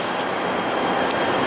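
A PATH train at Hoboken station rumbles and hums steadily in the underground platform area, a loud continuous rolling roar with faint clicks of wheels on track.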